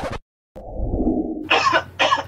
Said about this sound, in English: I need to cough really bad